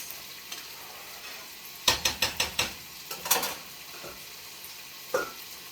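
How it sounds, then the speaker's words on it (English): A spoon stirs rice in a pot with a quick burst of four or five scraping clinks. A few softer scrapes follow over a faint background hiss. "Give it a stir,"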